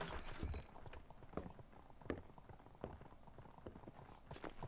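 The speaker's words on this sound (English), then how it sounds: "Is that the horses?" Horses in Red Dead Redemption give faint, uneven hoof clip-clops throughout, soft and somewhat distant.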